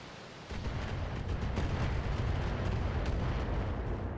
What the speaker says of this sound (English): Oh, that's a lot of missiles that hit there.